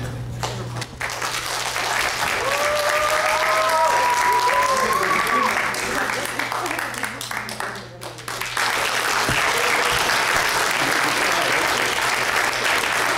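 An audience at an improv match show bursts into loud, sustained applause and cheering, a dense wash of clapping that briefly dips before swelling again, with voices shouting through it.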